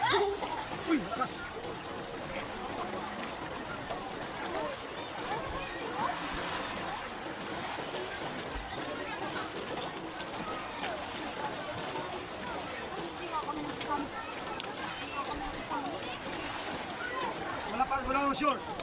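People splash and bathe in a river in Nagcarlan, Laguna, with steady broadband water splashing and turbulence filling the clip and voices mixing in among the bathers.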